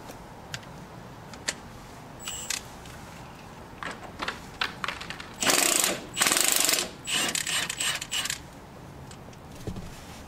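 A ratchet backing out the 17 mm bolts of a sway bar bracket on a Nissan Xterra or Frontier with a long socket: rapid clicking bursts, then louder sustained ratcheting runs, close by with no voices.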